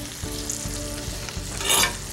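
Sausage fries on low heat in a cast iron skillet, a soft continuous sizzle with a few light taps and a brief louder hiss near the end.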